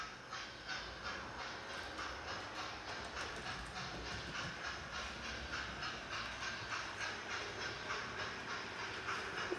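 A small model locomotive hauling coaches around a layout track, giving a steady, even rhythmic clicking with a soft hiss throughout, fairly close and moderately quiet, with no talking.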